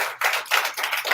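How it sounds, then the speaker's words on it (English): A crowd at a cookout event claps in a steady burst of applause, with two brief dips as the clapping swells again, fairly close and moderately loud. "Clap it up for yourselves."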